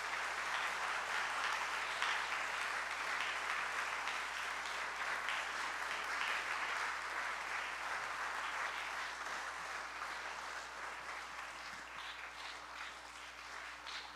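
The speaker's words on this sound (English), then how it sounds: "please, a round of applause for our wonderful staff" A long, steady round of applause from an audience at a school gathering, honoring the staff, continuous and full before gradually fading a little toward the end.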